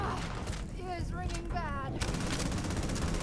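Gunfire rattles through a shootout in the Starfield game, bursts of fast shots over a continuous low rumble, with someone talking through part of it.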